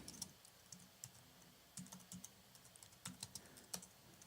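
Typing on a computer keyboard, irregular bursts of soft clicks and thocks with short pauses, close but fairly quiet, no voices.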